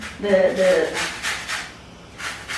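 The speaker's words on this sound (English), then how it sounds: "I thought I'm going to grate some lemon zest in there." A lemon is rubbed against a grater for zest over a bean pilaf, producing a series of soft, rhythmic rasping strokes close by, with a brief voice near the start.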